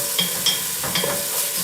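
Food browning over high heat in an enameled cast iron Dutch oven, a steady close sizzle with a few scraping stirs of a utensil.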